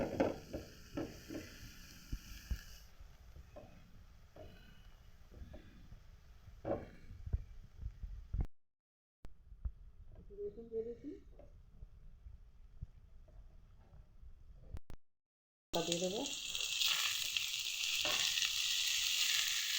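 Potatoes and chili frying in oil in a pan as part of an okra dish, with a steady sizzle that drops out briefly twice and comes back louder and brighter near the end.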